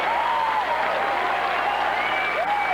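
A bowling crowd applauds and cheers after a perfect 300 game in a 1997 Masters semifinal, a dense, sustained roar of clapping and voices with a commentator talking over it.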